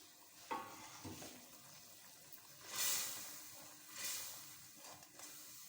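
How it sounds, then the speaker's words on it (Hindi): Spices being fried for a wedding-style korma give a quiet, intermittent sizzle with a few stirring scrapes and brief louder hissing bursts, heard fairly close with no talking. "मसाले को हमने बहुत ही अच्छे तरीके से भून लेना है।"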